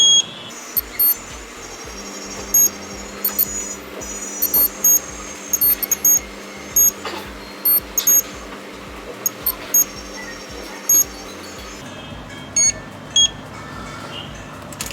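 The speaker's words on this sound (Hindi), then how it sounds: "अगर इसको बीप होना है तो ये टच होते साथ ही बीप दे देगा" A multimeter beeps during continuity checks on the cracked CPU board of an iPhone under repair. Short electronic beeps come in irregular bursts over a steady background hum.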